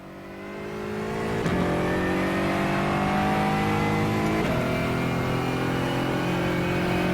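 An Aston Martin V8 race car in a racing video game revs up from a quieter start, its engine note building and then holding loud and steady, with harmonic lines rising and dropping around gear changes at about 1.5 and 4.5 seconds.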